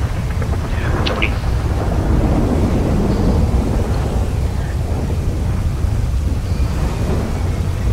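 Stormy night in GTA V outside a hospital, a steady dense roar of rain and wind with low rumbling thunder filling the whole stretch, loud and continuous with no clear breaks.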